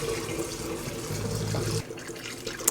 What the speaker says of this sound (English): We're going to dump all that stuff through the funnel into our jar.